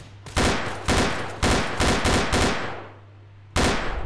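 Gunshots in Trouble in Terrorist Town, a Garry's Mod game mode: seven loud, close, evenly spaced shots, each with a decaying tail, then a pause before a final blast.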